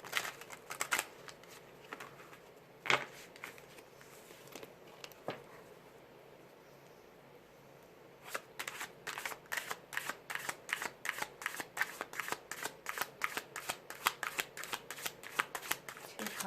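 Twin Flame Journey Oracle cards being shuffled, with rapid riffling bursts near and clear at the start, a quiet pause in the middle, then a long steady run of crisp card flicks.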